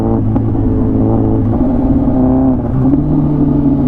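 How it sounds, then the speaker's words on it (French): Car engine running steadily as it is shifted through nearly all gears without the clutch, with shifting pitch steps in the harmonic drone and a continuous, close, loud hum. "je viens de vous passer toutes les vitesses, du moins presque, sans toucher mon embrayage"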